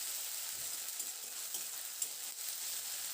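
Ginger garlic paste fries in a pan with a steady high-pitched sizzle, stirred throughout with faint scraping, for a spring onion greens curry; no voices.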